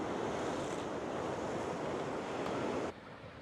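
Ocean surf at Yamba beach in New South Wales during an ocean swim, a dense continuous roar of breaking waves with wind noise that drops sharply near the end.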